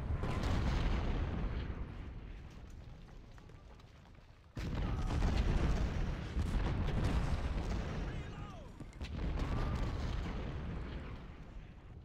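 Continuous rumbling artillery and rifle fire from a Civil War battle in the game Ultimate General: Civil War, booming and crackling in sustained waves with a brief dip, distant and dense.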